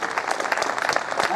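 An audience claps steadily at a Hindi poetry gathering, a brief, loud, dense burst of applause.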